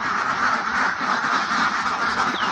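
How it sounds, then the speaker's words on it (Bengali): A dense flock of ducks on a farm of about 400 birds quacks continuously and loudly, many calls overlapping into a steady chorus. "আপনার এই হাঁস খামারে কতগুলি হাঁস আছে?"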